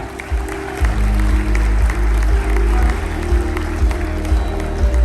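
Cruise ship crew audience applauding for their human resources director aboard the Mardi Gras, a dense sustained clapping with low rumbling music or crowd noise underneath for the whole stretch.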